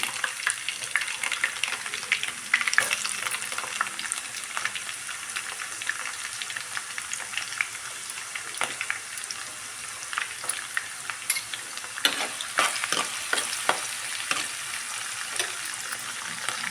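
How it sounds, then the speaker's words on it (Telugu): Onions frying in hot oil for a raw fish curry, a loud, crackling sizzle up close, with frequent scraping stirs growing busier toward the end and no speech. "నూనె వేడిచ్చిందండి ఉల్లిపాయలు వేసుకుంటున్నాను"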